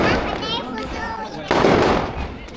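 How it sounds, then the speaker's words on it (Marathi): Firecrackers pop and crackle repeatedly at a temple outing, with a sharp louder burst midway, while people talk and children's voices mingle over the noise. "फटाके वाजतात"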